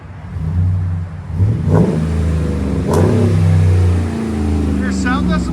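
A 2012 RAM 1500 SLT pickup with a 5.7L HEMI V8 and 14-inch Magnaflow dual exhaust revs in steady, loud, deep bursts close by, with people talking over the engine throughout.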